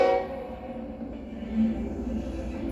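A train passes with a low rumble of rolling wagons and brief tonal horn blasts, moderately loud and steady, with no talk over it.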